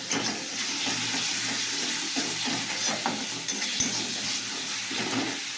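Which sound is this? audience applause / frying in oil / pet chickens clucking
frying in oil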